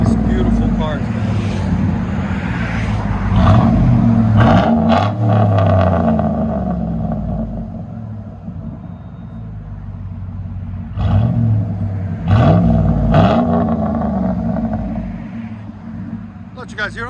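A straight-piped 2007 Chevy Suburban revs outdoors, its deep, loud exhaust rumbling and surging in repeated bursts while people talk nearby.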